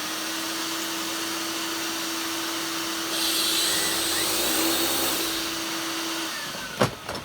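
An American vacuum cleaner with a hose, just unboxed, hums steadily at moderate volume for several seconds, swelling slightly midway before a couple of sharp knocks near the end; the machine runs a little smoky.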